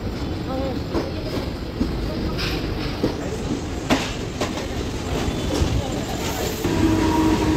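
A Mumbai local train rolling past close by, loud and steady with continuous rumble and rhythmic clickety-clack of wheels over rail joints, running through the whole stretch with a faint voice beneath.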